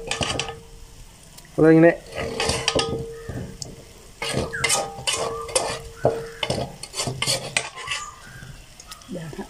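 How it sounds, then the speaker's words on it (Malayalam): Chicken mixed with masala in a pan for chicken pickle, with repeated close scraping and clinking of a spoon against the pan over soft sizzling while a person talks intermittently. "നമ്മൾ ആ വഴറ്റി വെച്ചേക്കുന്ന മസാല നമ്മൾ ഇതിനകത്തിട്ട് ഫുള്ളായിട്ടൊന്ന് ചേർത്ത് കൊടുക്കുകയാണ്. നല്ല രീതിയിൽ എന്നിട്ട് ഇളക്കി ഒന്ന് യോജിപ്പിക്കുക"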